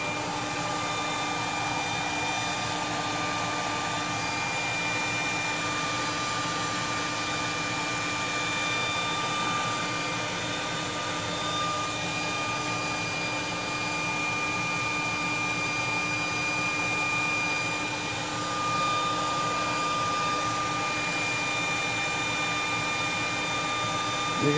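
A steady, continuous whoosh of a blow dryer blowing hot air onto the metal of a Remington 1858 revolver runs throughout at an even level, with a constant motor whine and no voices.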